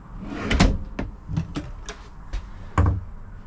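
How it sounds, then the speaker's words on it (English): Soft-close pull-out drawers in a used 2019 Lance 855s truck camper sliding and shutting, with a series of close, fairly loud thumps and rattling knocks spaced unevenly, no voices. "Couple pull-out drawers, they're soft close."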